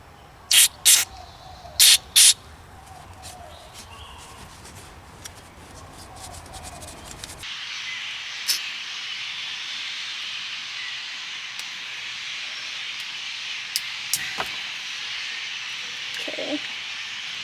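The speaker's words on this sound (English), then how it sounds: "removing this entire piece so we can spray some cleaner in here directly" Aerosol cleaner sprays in a steady hiss into the ignition switch of a Kei truck after its lock cylinder housing is removed, a continuous close spray with a few short clicks and bursts.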